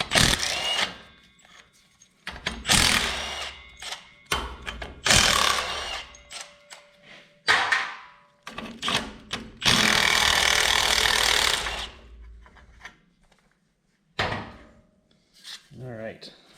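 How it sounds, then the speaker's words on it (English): An impact wrench removes the manifold bolts on an Allis Chalmers B tractor, heard as several loud bursts of rattling hammering separated by pauses, with one longer run near the middle and clanking tool handling between bursts. "Normally I would take a lot more care heating these up and not just hit them with the impact"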